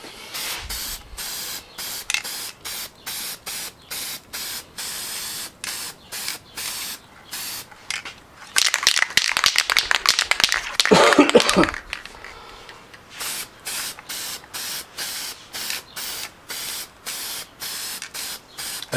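Spray paint hissing from an aerosol can while a sign is painted in hot weather: many short rhythmic bursts, then a longer continuous spray in the middle, close and fairly loud.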